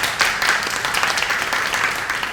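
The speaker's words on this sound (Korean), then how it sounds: "박수 한번" Audience applause greets a webtoon studio head being introduced at a comics industry expert panel. Dense, even clapping from many hands carries on at moderate loudness for the whole stretch.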